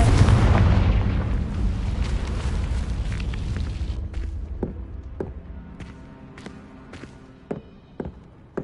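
A Confringo fire spell explodes in Hogwarts Legacy, opening with a loud, dense boom and rumble that slowly decays, followed by several sharp, fainter cracks and impacts.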